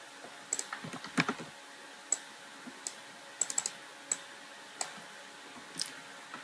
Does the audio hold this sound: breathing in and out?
no